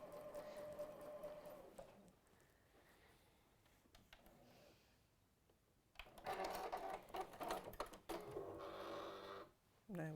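A sewing machine stitches a seam on a quilt block, whirring in short bursts with pauses between them, faint at first and then louder and faster runs toward the end.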